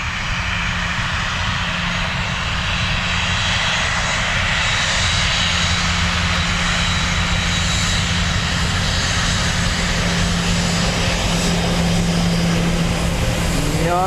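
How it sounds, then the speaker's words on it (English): An aircraft departs Dublin Airport with a loud, continuous engine roar that holds steady and broad throughout, heard from nearby without a break. "So these two will be the last aircraft, folk. We'll watch them depart"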